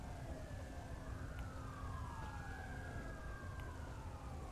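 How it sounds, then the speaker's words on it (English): Emergency vehicle sirens wail during a police pursuit in a video game, several overlapping rising and falling tones sweeping continuously over a steady engine and traffic rumble, moderately loud and unbroken. "Why do I hear sirens?"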